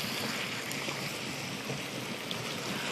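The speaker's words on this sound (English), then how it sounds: "My water's boiling away over here for my spaghetti." Spaghetti water at a rolling boil in a pot on a home stove, a steady dense bubbling hiss and roil that stays even and close throughout, with no talk over it.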